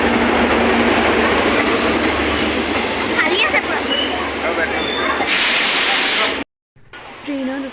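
Steady, loud rumble and rattle of a crowded passenger train running on rails, heard from inside the carriage, with a brief dropout near the end and voices faintly mixed in.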